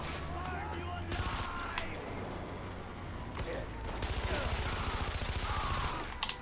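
Sustained automatic gunfire from the video game Far Cry 4 rattles in long, loud bursts with short gaps between them, mixed with game ambience.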